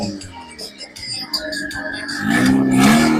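A Chevrolet Corvette C5 pulls away at a backyard car meet, its engine note climbing and swelling louder toward the end amid scattered crowd noise.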